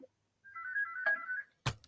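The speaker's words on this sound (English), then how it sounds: "Oh, is that your phone?" A mobile phone ringtone plays a short electronic tone phrase, clear and fairly close, ending in a brief clatter, with no voices.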